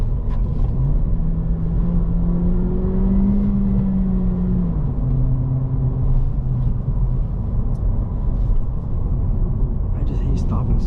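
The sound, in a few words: 2024 Honda Civic Si manual car engine downshifting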